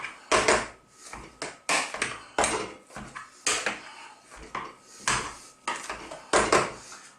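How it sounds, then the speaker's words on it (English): A potato masher pounds cooked potatoes in a pan with repeated rhythmic thuds and metallic clanks, close and fairly loud, with no talk. "I've now got a nice potato masher. And simply we're going to crush and mash them together here."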